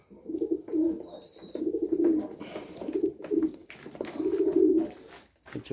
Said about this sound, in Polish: Przepiękne gołębie.